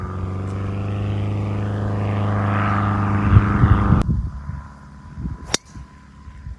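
A propeller airplane drones overhead on a golf course, a steady engine hum that builds then fades, with brief knocks and handling noises near the end.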